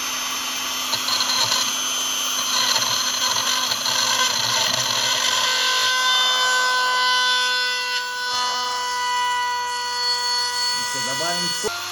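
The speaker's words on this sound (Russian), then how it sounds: "И начинаем нашу сверлежку. Поставила для начала тут скорость единичку." A Chinese rotary tool drills hardened steel at its lowest speed setting, giving a steady high-pitched whine with layered tonal hum that shifts slightly partway through, close and continuous with no talk.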